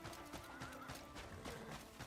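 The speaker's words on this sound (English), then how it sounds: "Is that a baby elephant? No, it's a horse." Horse hooves clip-clop steadily in the open-world video game Crimson Desert, with a whinny over a busy background of ambient game sound and no talk.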